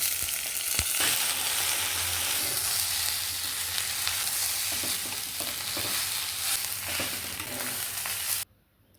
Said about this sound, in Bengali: এখন হলুদ গুঁড়ো লাল মরিচ গুঁড়ো দিয়ে ভেজে নিচ্ছি।